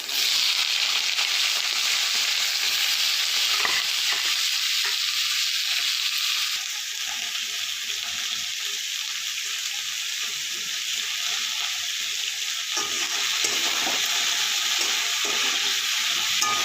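Mixed vegetables fry in hot oil in a kadai with dried chillies and green chillies, a loud continuous sizzle with intermittent scraping as they are stirred, close up with no talk.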